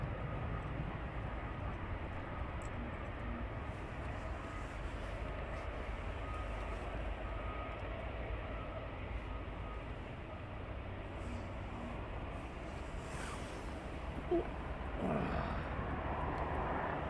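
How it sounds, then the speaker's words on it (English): A DHL Boeing 757 rolls out after touchdown at East Midlands Airport at night, heard as a faint, distant, steady engine rumble with a brief louder swell near the end. "So DHL 757 just touched down."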